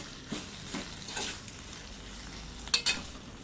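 A spoon stirs okra curry in a pan with tomato and chili powder, making soft scraping and sizzling sounds, then a couple of sharper clinks of metal against the pan near the end.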